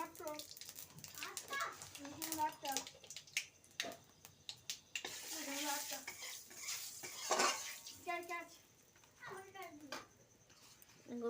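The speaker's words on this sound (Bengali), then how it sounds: "তারপরে দিয়ে দিচ্ছি পাঁচ ফোড়ন" Panch phoron, the Bengali five-spice, dropped into hot oil in a pan for rui fish curry, giving a crackling sizzle with stirring and utensil clinks, partly under voices talking nearby.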